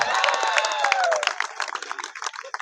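An audience at a Hindi comedy poetry festival gives a burst of applause and cheering that fades after about a second into scattered claps under faint voices.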